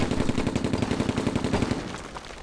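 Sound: gunfire from the Silent Storm video game

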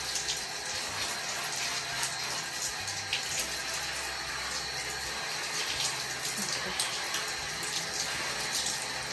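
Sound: water running to water a potted plant

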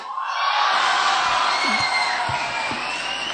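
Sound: audience clapping and cheering for a stand-up comedian

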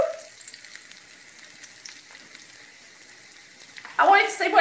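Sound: potato cakes frying in a pan

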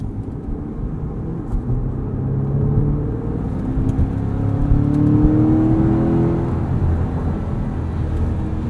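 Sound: 2020 Chevrolet Corvette Stingray Convertible engine while driving

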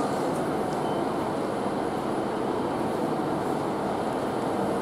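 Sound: GWR Class 150 train departing Exeter St Davids

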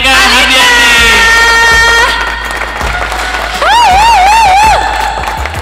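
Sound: studio audience applause welcoming a guest

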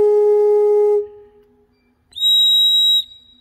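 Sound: small pipe organ mixture pipe sounding

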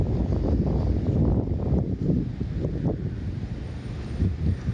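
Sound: wind blowing while walking along an Orange County beach

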